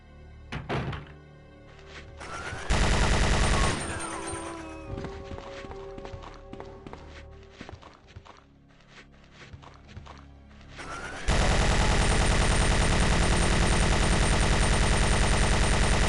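Gunfire in the game Resident Evil 2 remastered, with scattered thuds and impacts building into sustained, loud continuous blasting over the last stretch.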